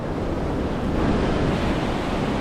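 Steady ocean surf washes continuously onto a mile-long sandy beach, a broad, even roar of breaking waves with some wind rumble on the microphone, loud and close with no voices.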